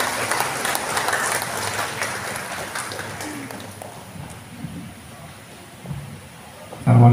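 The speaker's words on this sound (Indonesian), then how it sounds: "Boleh kita beri tepuk tangan yang meriah?" An audience at a government address on Kebumen regency's development gives sustained, dense applause that gradually thins and softens over several seconds, ending with a brief louder sound at the close.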